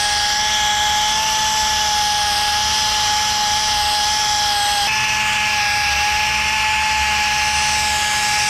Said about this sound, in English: So I'm about to polish real quick, just a little two-step, 3M, the best product you can use in a body shop